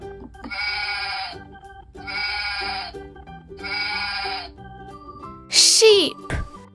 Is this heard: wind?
no